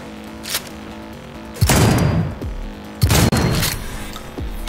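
Gunfire in Cyberpunk 2077: two loud, close bursts of shots, each a sharp cracking volley that trails into a booming rumble, with quieter reports between them.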